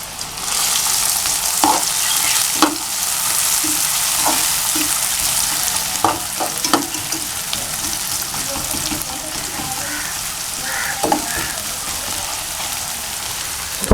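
Finely chopped medium onion frying in a little oil for a dhaba-style achari egg masala, a steady close sizzle with scattered stirring scrapes and pops throughout, no talking.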